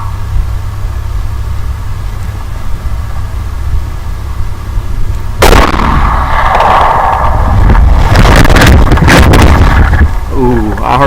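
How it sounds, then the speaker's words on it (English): One sharp rifle shot at a coyote about 300 yards away cracks out midway through steady outdoor wind noise, followed by rustling and movement close by. "he's going to crack a shot off at her"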